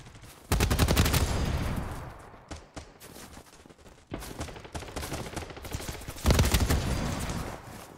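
Gunfire in the shooter game BattleBit: a gun fires in loud, sustained rapid bursts, three long strings of shots separated by brief gaps.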